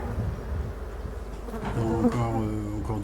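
Nervous honeybees buzzing over frames in a crowded hive, a steady close drone that swells a little louder and denser toward the end.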